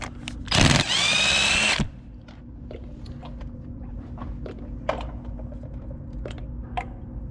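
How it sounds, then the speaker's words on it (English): A cordless impact wrench works on bolts of a John Deere 4840 tractor during PTO repairs, firing one loud, close burst of about a second, followed by quiet with scattered clicks and small tool knocks. "now I'm going to grab my impact and socket and start taking some of these bolts here out"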